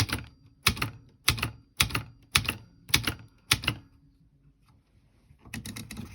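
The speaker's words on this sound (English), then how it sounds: "Let me just finish typing up." Keys are struck in a steady, evenly spaced run of seven sharp clacks, close and crisp, followed by a pause and then a faster cluster of keystrokes, while someone types up a collage journal prompt.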